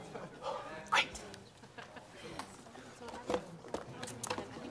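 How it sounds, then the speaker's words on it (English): A dog gives a couple of short yips and barks amid low background noise and quiet talking. "That's our dog, Sparky."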